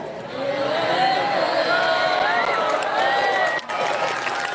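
An audience at a religious sermon claps in a dense, sustained burst of applause, with a few whoops riding over it before it briefly dips near the end.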